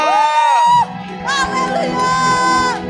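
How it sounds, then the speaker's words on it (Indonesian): Worship congregation erupts in loud cheering and shouted praise, a sustained wall of voices with high whoops and yells over a dense crowd roar, briefly dipping before swelling again. "Mari kita berikan sorak-sorak kepada Bapa"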